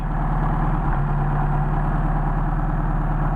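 Mercedes 190SL engine with Solex 44PHH carburetors idling warm at about 1250 to 1300 RPM, a steady, even, close rumble with a slight dip in tone near the start.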